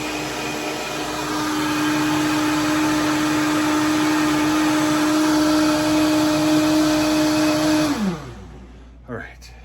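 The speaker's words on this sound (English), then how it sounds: "The longer you blend it, the better the consistency of it." A kitchen blender runs loud and steady for about eight seconds, its motor whining at a constant pitch, then spins down and stops, leaving a brief faint clatter.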